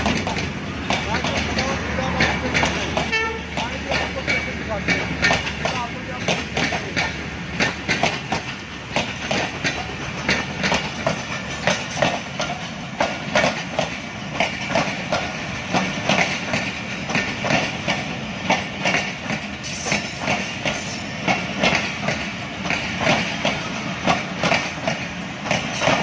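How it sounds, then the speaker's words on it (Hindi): A train pulls into Wazirabad Junction railway station in Pakistan, its wheels rolling in a loud rhythmic clickety-clack that runs throughout while someone talks over it. "ट्रेन आ रही है"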